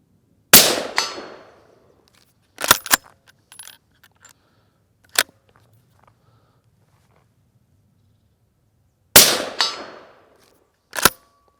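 A rifle fired from a prone position during a zero check before deer stalking: two sharp, loud reports with short decaying tails, separated by quiet stretches and a few crisp mechanical clicks and knocks.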